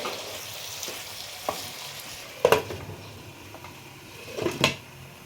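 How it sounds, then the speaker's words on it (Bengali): Cauliflower stirred and fried in a pan, with a soft continuous sizzle broken by a few sharp scrapes and clatters of the spoon against the pan, no talking. "ফুলকপিগুলো আমি দিয়ে দিচ্ছি একটু নেড়ে আমি ঢাকা দিয়ে দেবো"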